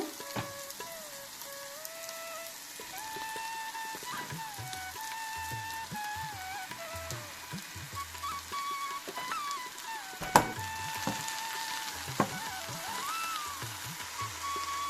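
Ridge gourd pieces cooking in a pan with softened onions give a steady, faint sizzle like light rain, with occasional clinks and stirring sounds and no talk.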